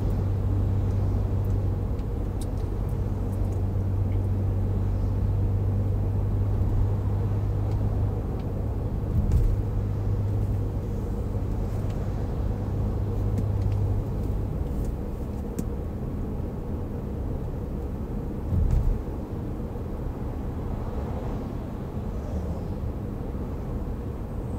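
Road traffic in moderate flow heard from inside a vehicle travelling from Bicutan toward Magallanes in Pasay, Philippines: a continuous low engine and tyre rumble with occasional passing swells, no talking.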